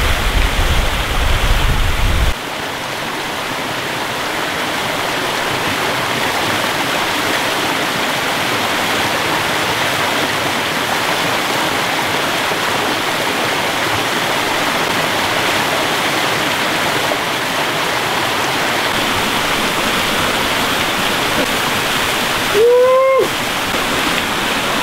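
A Scottish waterfall pours in a constant, loud, close roar of falling water that fills the whole stretch, with a short burst of different noise near the end.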